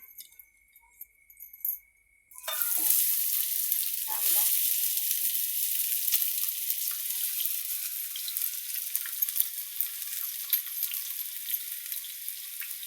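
Onion dropped into hot oil for pav bhaji sets off a sudden loud hiss after a couple of quiet seconds, then a steady close crackling sizzle with light stirring taps continues to the end.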